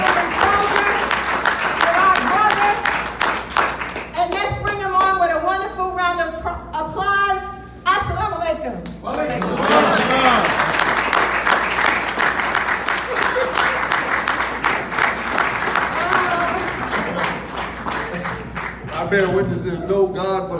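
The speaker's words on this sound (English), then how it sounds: "Let's bring him on with a wonderful round of applause." An audience welcomes a speaker with long, loud applause and cheering, claps continuing steadily while voices shout and call out over them throughout.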